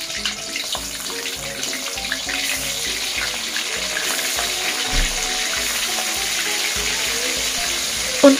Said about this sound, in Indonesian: Lanjut, goreng ikan asin sepatnya.